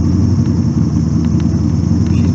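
A car engine running near 4,000 RPM with a misfire, a steady loud low drone filling the clip with slight irregular dips in its pulse.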